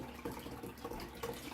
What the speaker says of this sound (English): So I'm going to get nice warm water in there. It's filling up at the moment.